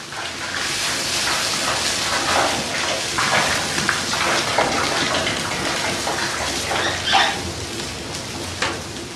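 Cold water poured into a vessel of hot, near-boiling beeswax during traditional wax rendering in northern Germany, giving a steady rushing, splashing pour with hissing bursts that runs loud and close for the whole stretch.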